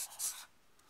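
Absolute value notation is written by hand in a quick series of faint scratchy strokes, a brief rubbing scrawl that fades after half a second.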